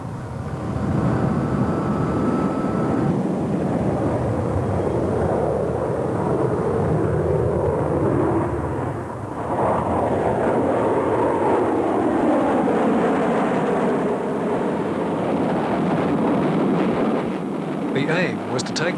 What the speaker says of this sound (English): the test pilot, Walter Smith, used the self-starter on the plane to get the engine going and then taxi the plane directly into its takeoff run